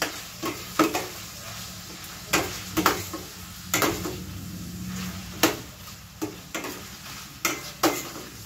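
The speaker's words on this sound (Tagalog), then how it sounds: "Nasigisan muna natin ang ating legs" Chicken legs sear in a pan, a soft steady sizzle broken by repeated sharp scrapes and clacks of a utensil stirring and turning the meat, close up.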